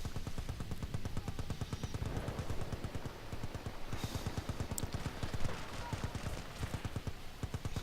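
Rapid full-auto bursts from an AEK assault rifle in Battlefield Bad Company 2, a fast steady stream of sharp shots running almost continuously with brief pauses, loud and close.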